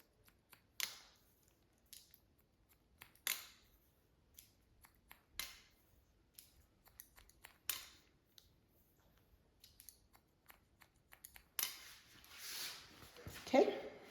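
Scissors point cutting hair during a spiky haircut, a series of quick crisp snips spaced a second or two apart, close and fairly quiet, with some rustling toward the end.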